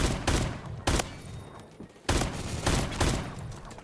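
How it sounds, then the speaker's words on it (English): Video game gunfire from an AK rifle set up to act like a shotgun: heavy, close, loud blasts in irregular clusters with short gaps between them, no voices present. "it's just something so satisfying about using your AK as a shotgun"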